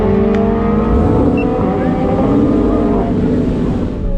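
A drag racing car making a pass on an eighth-mile strip, its engine roaring loud and sustained with shifting pitch as it pulls away, a voice briefly audible over it.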